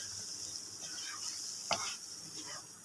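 A spoon stirs besan halwa in a pan over medium heat, producing a faint, continuous low sizzle with soft scraping strokes and one sharper clink partway through, with no voice present.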